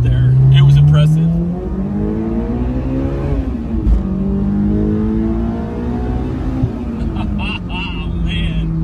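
A 2001 Honda S2000 AP1 sports car drives on the road, its engine a steady, loud in-cabin drone that rises and falls in pitch as it pulls through a corner, with people talking over it.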